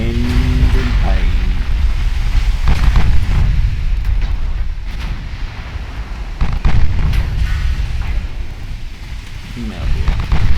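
Battleship gunfire from 1920s-style 12-inch guns in the naval video game Ultimate Admiral Dreadnoughts: a loud, dense wash of booming shots and explosions that continues throughout.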